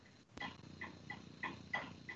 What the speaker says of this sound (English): I was disciplining the dog